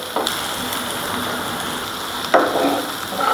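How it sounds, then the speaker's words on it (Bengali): Chopped garlic and green chillies fry in a pan for a fish and ridge gourd curry. A steady, close sizzle is broken by a few light stirring clatters. "রসুন কুচি, কয়েকটা কাঁচামরিচ কুচি, হালকা লাল লাল করে ভেজে তারপর আমি মাছটা দেবো।"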